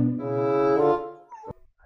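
A single dog gives one drawn-out, tonal whining or howling call lasting about a second. The call is fairly close and clear, and a short faint yip follows it.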